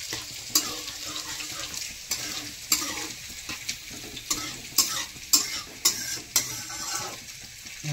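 Bay leaves and dry red chillies frying in hot oil for a methi or dalcha chicken, a continuous sizzle broken by repeated sharp scraping clinks of a spatula against the pan.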